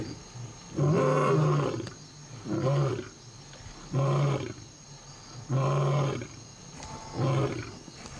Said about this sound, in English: lions often roar in chorus.